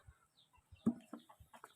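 Chickens cluck in short, quiet bursts, a few scattered calls close by over a near-silent background.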